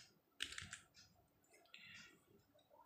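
Typing on a computer keyboard into a blank MS Word document, a few quiet bursts of crisp, close key clicks separated by short pauses, with no talk.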